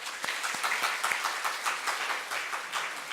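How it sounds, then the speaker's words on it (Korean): Congregation applauding during a Sunday service at Yohan Seoul Church, a moderate, steady patter of many hands from a mid-sized group, fairly even throughout with no one speaking. "박수 한번 해줍시다."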